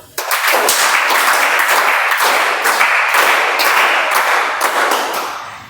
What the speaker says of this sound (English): I'm just going to do this and you will all clap 8 times.